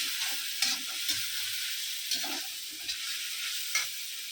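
Paneer curry masala sizzles in a pan while a utensil scrapes and stirs it in repeated soft strokes, close and steady, with no talking.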